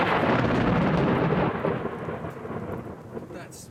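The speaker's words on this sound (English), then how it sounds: "That's struck pretty close. I don't know if the video is going to show that lightning strike." Thunder from a close lightning strike during a hailstorm in Siena, a loud, broad rumbling crash that peaks at once and then rolls and fades over a few seconds amid steady rain.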